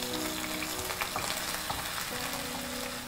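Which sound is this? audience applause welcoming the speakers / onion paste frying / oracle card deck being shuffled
onion paste frying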